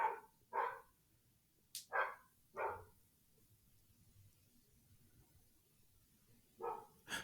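A neighbor's dog barks in short, sharp bursts, a pair of quick barks, another pair, then a final couple after a long quiet gap, heard faintly from some distance.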